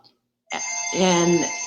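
A phone rings with a single sustained electronic tone that swells in the middle, heard close and alone after a brief silence.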